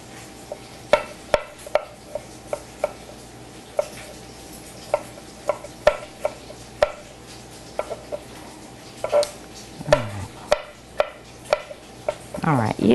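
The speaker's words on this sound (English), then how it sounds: "use a smaller knife if you want to, but a bigger one chops it better" A big knife chops garlic on a cutting board in a home kitchen, a steady run of crisp, close taps that speeds into a flurry near the end, with no talk over it.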